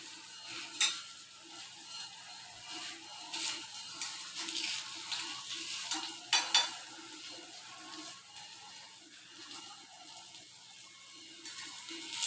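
Food roasting on a hot pan, a faint, continuous sizzle broken by soft scraping and stirring knocks, close and quiet with no talking.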